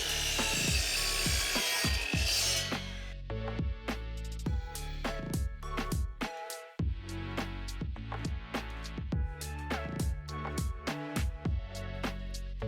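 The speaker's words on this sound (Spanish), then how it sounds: "Usamos guantes y lentes de seguridad para protegernos mientras cortamos con la sierra ingleteadora" Miter saw cutting wood pieces to 45-degree ends, a loud sustained motor whine with rapid repeated ticking and rattling throughout, briefly dipping near the middle before continuing steadily.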